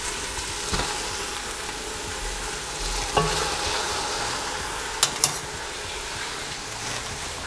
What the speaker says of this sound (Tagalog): Kapag nagisa nyo na maigi, ilagay nyo na tong beef shank